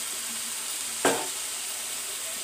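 A low, steady sizzle of eggs and onions frying in a pan over low heat, with one sharp clink or scrape near the middle; no talking.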